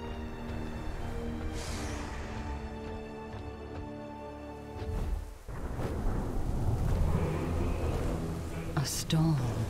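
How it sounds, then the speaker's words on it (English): Thunderstorm in the World of Warcraft Dragonflight video game, with a loud rumbling crack of thunder and rain noise, set under steady game music and character voices. "A storm."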